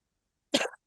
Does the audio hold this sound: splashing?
no